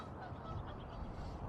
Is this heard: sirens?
no